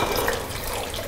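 A steady stream of alcohol pours and splashes continuously for about a second, close and fairly loud, with no voices.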